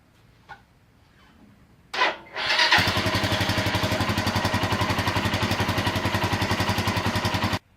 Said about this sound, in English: I'm gonna close everything up and start the bike up. Let it run for a few seconds.